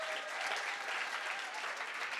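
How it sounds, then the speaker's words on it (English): An audience applauds the poets at a state poetry recitation competition: a soft, even wash of clapping from a seated crowd, heard at a distance and at low volume for about two seconds. "Please applaud all the poets."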